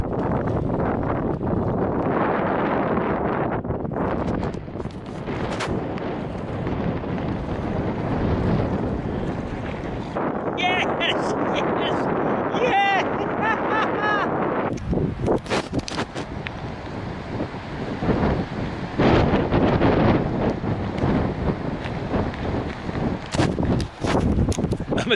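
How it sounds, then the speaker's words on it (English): Strong wind buffets the microphone in a continuous, loud roar on a lake in the Boundary Waters Canoe Area, with gusts rising and falling throughout and faint water sounds beneath. "I'm gonna tell you what, it is so windy"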